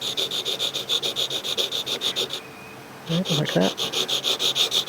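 A wood carving V tool is sharpened by hand, its steel edge rubbed steadily on a sharpening surface while slowly rotated, a close rhythmic scraping that pauses briefly midway, with a voice speaking quietly over it.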